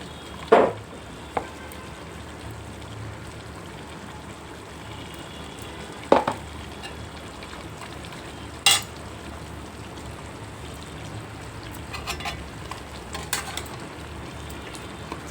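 Ginger garlic paste fries in a pan for gongura chicken, a steady soft sizzle throughout with a few sharp clinks of a utensil against the pan.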